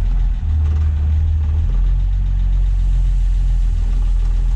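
An old Ford Falcon engine, long abandoned in a wrecking yard, idles roughly with a deep, heavy low rumble, loud and close, slightly uneven at first before settling into a steady drone.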